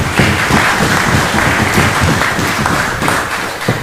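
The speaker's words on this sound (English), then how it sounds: "they deserve a round of applause individually" Applause from the members and gallery at a special sitting of the House of Representatives, a steady dense wash of many hands clapping that holds evenly for several seconds.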